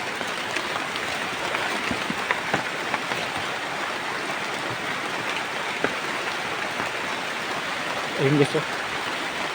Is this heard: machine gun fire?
no